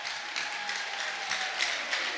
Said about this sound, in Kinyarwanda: Komera Imana amashyi byarangiye.